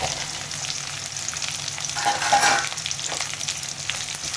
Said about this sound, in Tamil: எல்லாம் சேர்ந்து நல்லா வதங்கணும்